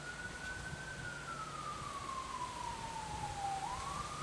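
An ambulance siren passes by outside a home porch, a faint, steady wailing tone that rises and falls slowly, heard from a distance over soft ambient noise.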